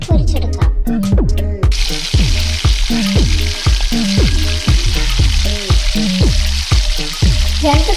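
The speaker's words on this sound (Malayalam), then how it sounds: "എണ്ണ ചൂടാകുമ്പോൾ നമ്മൾ പരത്തി വെച്ച ഓരോ കൂട്ടും ആദ്യം മുട്ടയുടെ മിക്സിലും പിന്നീട് ബ്രെഡ് സ്ക്രംബിലും മുക്കിയിട്ട് എണ്ണയിലേക്കിട്ട് പൊരിച്ചെടുക്കാം" Breaded cutlets, dipped in egg and bread crumbs, fry in hot oil in a pan with a loud, continuous sizzle that runs steadily under a rhythmic musical backing.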